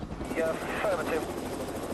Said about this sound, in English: A second police helicopter, East Midlands Air Support, has been scrambled and is making its way across the country to join the police effort.